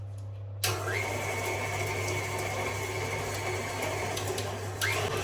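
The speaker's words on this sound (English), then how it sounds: "I'm using the KitchenAid bench mixer for this" A KitchenAid stand mixer whirs as it creams butter and caster sugar, a steady close motor hum that starts abruptly after a short quiet moment and runs on with slight speed shifts.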